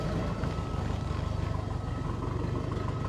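A Bombardier Bombi engine fitted with a Holley Sniper 1100 fuel injection system idles roughly after a manifold leak repair, giving a steady, close, low rumble with uneven throbbing pulses and no voices.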